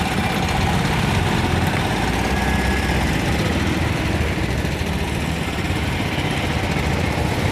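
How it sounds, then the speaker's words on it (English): BMW microcar engines drone steadily at the National MicroCar Rally 2019, a loud continuous idling and revving hum with outdoor rumble, no talking over it. "the BMWs are racing off into the lead."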